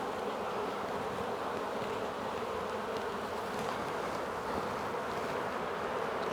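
Honeybees in an opened 14 x 12 hive during an inspection, a dense, steady buzzing drone filling the scene continuously and close by, with no voices.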